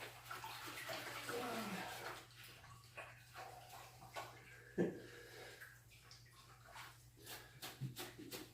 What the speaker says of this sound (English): I just rinsed my hands off in my quench bucket